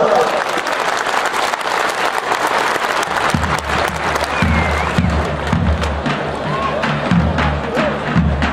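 Spectators at an oil wrestling match applaud steadily, a dense crowd of clapping with some cheering, loud and continuous, with low thumps joining partway through.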